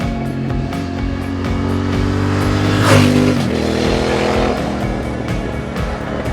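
A 2016 Triumph Thruxton R motorcycle engine rumbles steadily, rising into a louder rev midway before settling back to a throaty idle, close and continuous.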